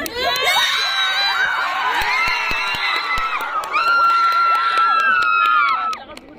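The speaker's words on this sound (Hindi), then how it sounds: "हम लोग इतना चिल्लाया ना खुद का हाउस के लिए" Students at an outdoor school sports-week game shout and cheer loudly for their house team, a dense, continuous crowd of young voices whooping close by with a brief lull partway through.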